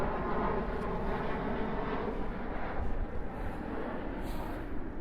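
An airplane passes over Livingston beneath the Edinburgh Airport flight path, a broad, steady roaring rumble that holds evenly throughout at moderate distance.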